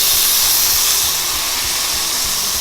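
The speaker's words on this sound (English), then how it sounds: "we're gonna fry it from both sides, basically sear it, slight searing." Prime rib roast searing in olive oil in a skillet, a loud, steady, close hiss of sizzling fat that holds for the whole moment, with no talking.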